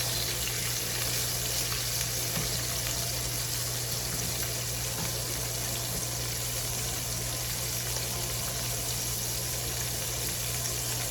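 Oysters coated in flour and egg fry in hot oil with a steady, dense sizzle and crackle that holds evenly loud and close throughout, with no talking.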